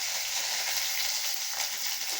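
Chopped large onion dropped into hot oil with curry leaves for a cucumber buttermilk curry, giving a steady, close, bright sizzle that fills the whole moment with no talking.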